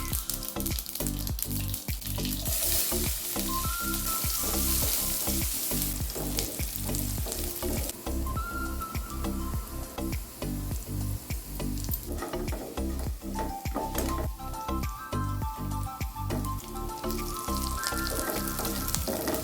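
Leftover cooked rice with peanuts being fried in a hot tempering in a nonstick kadhai, giving a loud, continuous sizzle with repeated scraping and clinking as it is stirred throughout.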